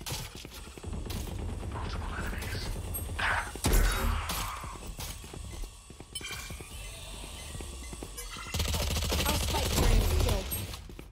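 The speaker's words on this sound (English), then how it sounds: "Placing swarm grenade. Swarm grenade out." Killjoy's swarm grenade in Valorant erupts amid a dense, crackling burst of rapid gunfire-like pops and mechanical clatter, loud and sustained, with a sharp spike partway through and a renewed surge near the end.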